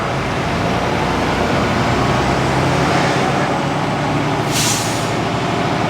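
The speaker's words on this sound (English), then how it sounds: "Rev it up pretty good and then go to fourth." A truck's engine revs hard while the driver shifts into fourth gear: a loud, steady, broad roar fills the whole stretch, with a brief hiss of air near the end.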